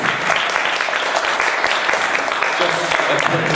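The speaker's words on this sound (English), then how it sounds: "If we could just give a round of applause." A university audience at a student Question Time political debate breaks into dense, steady applause, loud and continuous for the whole stretch with no pause.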